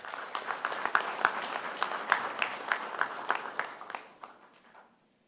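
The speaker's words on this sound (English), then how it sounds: "Please give a round of applause for, ladies and gentlemen, Miss Reena Gopal." An office audience at a Diwali celebration claps steadily with dense, even applause. The clapping then thins out and fades to silence over the last second or so.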